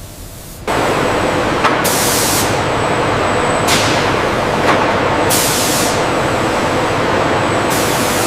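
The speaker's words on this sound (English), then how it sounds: "they enter an electrostatic spray booth for the anti-corrosion layer and NATO identification color" Electrostatic spray booth coating artillery shells with anti-corrosion paint and NATO identification colour in a US factory: a loud, continuous rushing hiss, with short brighter bursts recurring every couple of seconds.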